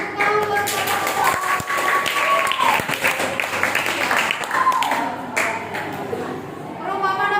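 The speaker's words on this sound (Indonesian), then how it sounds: "Tepuk tangan buat Bapak." Students in a classroom applaud for a teacher, a round of scattered clapping mixed with faint voices and a few tonal pings, moderately loud throughout.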